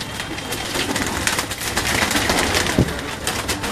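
Pigeons in a home loft in Gujranwala, Pakistan, give soft coos over a steady background of bird noise and faint movement, close and continuous.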